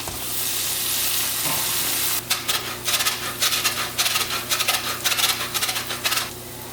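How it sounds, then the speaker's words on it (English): Cream poured into a hot pan holding onion, garlic and lemon zest, a steady sizzle giving way to quick repeated scraping strokes of stirring. "then we're going to add a bunch of cream"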